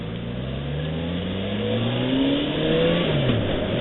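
A car accelerates in traffic while driving, with engine tones rising and shifting through gears, steady and fairly close.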